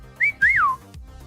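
A person whistles two clear rising-and-falling notes, the second longer and gliding downward, loud and close, followed by a low murmur.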